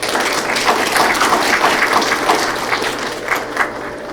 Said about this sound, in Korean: 힘찬 박수로 감사 인사드립니다.